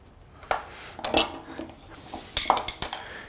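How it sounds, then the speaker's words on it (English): Screws being tightened down on a Stanley 60 block plane, heard as a few separate metallic clicks and clinks spaced irregularly across a quiet background. "Then we can tighten down these two screws."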